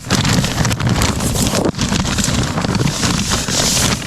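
Strong wind buffets and rushes loudly past the microphone in a moving pickup truck bed under plastic in the Peruvian Andes, gusting unevenly with rumbling, flapping noise throughout.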